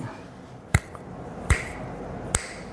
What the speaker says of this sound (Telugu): చిటికేసి